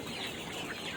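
KUB chickens clucking close by on a farm, a dense, continuous cackle of several hens with no talk.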